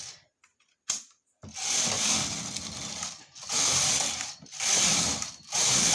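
A hand-operated knitting machine clicks and rattles as needles are set for stitches, with repeated close mechanical ratcheting bursts separated by short pauses.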